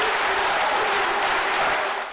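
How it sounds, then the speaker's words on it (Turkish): Standing ovation at a headmen's meeting in Beştepe for President Erdoğan, dense, loud, sustained clapping from a large crowd that fades out at the end. "Cumhurbaşkanı Erdoğan'ın bu sözleri ayakta alkışlandı"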